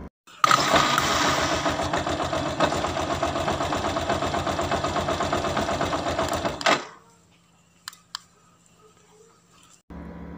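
A motorcycle engine started with a wireless remote killswitch, catching and running with a loud, rapid even chug for several seconds before cutting off abruptly, followed by quiet with a few faint clicks and then a low hum.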